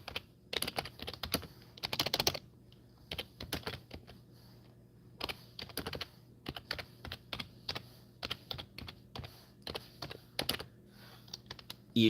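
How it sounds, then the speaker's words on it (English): Someone typing with one hand on a computer keyboard at home, uneven bursts of close, crisp key clicks with short pauses between runs. "I'm typing with one hand."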